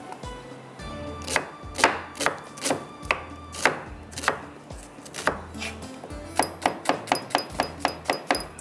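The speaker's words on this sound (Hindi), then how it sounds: "इसके अंदर कटिंग करते हैं हम प्याज को बारीक बारीक।" A knife finely chops onion on a cutting board, with a steady run of sharp, close knocks that quicken into a faster rhythm toward the end.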